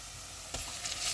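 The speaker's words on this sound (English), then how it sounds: "I roast it now a little." Chopped nettle leaves sizzle as they roast in a hot pan, a steady close frying hiss that swells suddenly midway as more leaves hit the surface.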